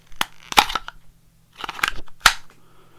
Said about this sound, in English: those clicking noises are the retention on that sheath. So that was me pulling it out and putting it back in.